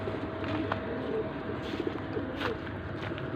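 Pigeons coo softly in low, rounded calls against a steady background murmur, fairly faint and close together.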